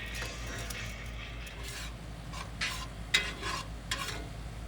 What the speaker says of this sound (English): I'm getting these sauteed up real good